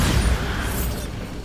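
A heavy, booming blast from the Bombarda explosion spell in Hogwarts Legacy, a video game, a loud dense roar that rolls out and fades over about a second and a half.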